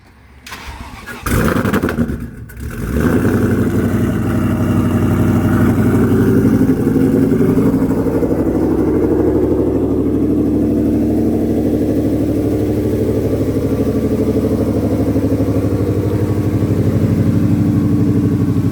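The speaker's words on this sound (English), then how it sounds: "Let's do a cold start." A Ford Mustang S550 cold starts with a short cranking whir and a loud catch, then settles into a steady, heavy, close idle that drones on without talk.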